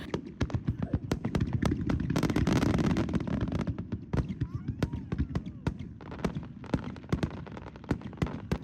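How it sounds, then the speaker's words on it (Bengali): Rapid sharp bangs and pops of fireworks at a Japanese hanabi festival crackle in quick succession, some louder than others, over a rumbling background, with voices faintly underneath. "প্রত্যেকটা আতসবাজি ছিল খুবই সুন্দর"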